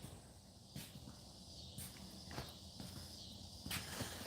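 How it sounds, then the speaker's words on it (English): A faint, steady high-pitched drone of cicadas hums in the background, with occasional soft crackles and rustles nearby. "hearing the cicadas in the background reminds me of home"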